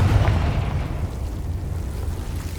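A Confringo blasting spell in the Hogwarts Legacy video game bursts into a heavy, rumbling explosion that starts loud and decays slowly over a couple of seconds, with no voices over it.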